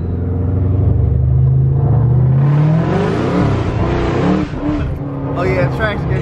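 Supercharged Ford Mustang Cobra accelerating hard from first through fourth gear, engine note rising and dropping at each shift, loud and close, with voices talking over the run.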